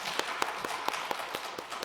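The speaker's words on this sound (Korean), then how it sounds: "박수로 우리 환영하겠습니다" Scattered clapping from a church congregation welcoming a pastor's family as they come forward, a thin, uneven patter of claps at moderate distance with faint room noise underneath.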